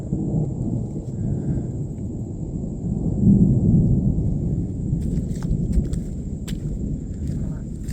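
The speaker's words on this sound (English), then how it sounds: "Here comes the rain." Thunder rumbles low and long on a wilderness trail, swelling midway, while rain begins to patter faintly and a few scattered drops and rustles are heard nearby.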